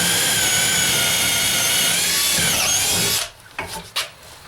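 A Bosch DDB181 compact 18V drill/driver bores a 3/8 inch hole, a loud, steady motor whine for about three seconds that cuts off abruptly, followed by a few quiet knocks.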